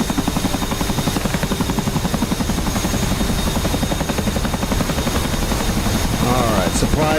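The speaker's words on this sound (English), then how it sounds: "there goes a Hornet taking off" A Hornet jet aircraft takes off in a video game, its loud, steady engine roar filling the whole stretch while a voice talks over it.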